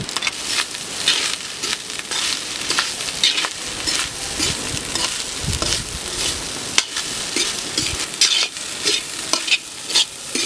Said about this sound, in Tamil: மிளகுத்தூள் வறுத்த முட்டையை சேர்த்து கிண்டிக்கலாம்